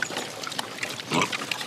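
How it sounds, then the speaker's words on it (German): Pig on an old traditional farm, grunting in short snuffling bursts close by, with a louder grunt near the end against a light background of farm noise. "Also unten ist auch noch ein Schwein"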